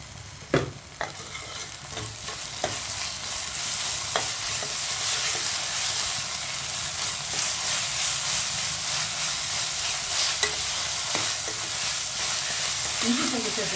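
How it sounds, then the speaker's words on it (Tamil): Ginger and garlic sautéing in a pan, a loud steady frying hiss with occasional sharp stirring clicks and scrapes, close and continuous with no talk. "இஞ்சி பூண்டு நல்லா வாசனை போகிற வரைக்கும் வதக்கியாச்சு."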